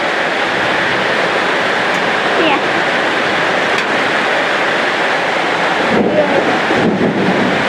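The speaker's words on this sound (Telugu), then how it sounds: "వర్షం ఇలా బాగా గడగడ గడగడ అంటుంది." Heavy rain pours down in a village, a dense, loud, continuous roar of falling water close by, with a few brief clatters near the end.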